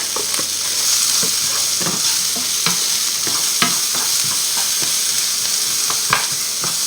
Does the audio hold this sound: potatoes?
yes